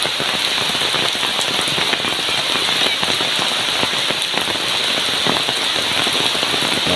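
Steady, heavy rain falls at Pandin Lake in a continuous dense hiss of drops hitting surfaces, fairly close and unbroken, with no voices.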